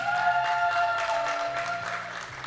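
Spectators at the 2024 European Shooting Championships in Osijek cheering and applauding for Team Czechia during the men's 50 m rifle 3-position trio, with a busy spread of clapping and a few tonal shouts that taper off slightly.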